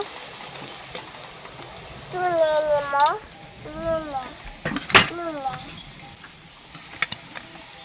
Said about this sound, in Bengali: বাকিগুলো ওইভাবে ভেজে নেব